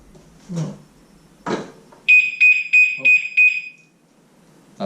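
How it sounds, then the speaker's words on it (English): Simple aftermarket alarm fitted to a Yamaha MT 125 motorcycle goes off: five loud, high electronic beeps in quick succession, close up, after a few handling knocks and brief noises. "That's the alarm, so it's still pretty loud."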